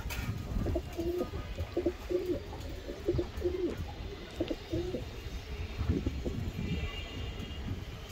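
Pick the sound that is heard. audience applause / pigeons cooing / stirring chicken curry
pigeons cooing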